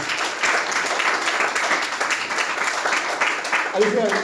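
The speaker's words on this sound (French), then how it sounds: "Applaudissons encore pour glorifier notre Seigneur." A church congregation applauding during a Sunday service, with steady, dense clapping that fills the room and a few voices mixed in near the end.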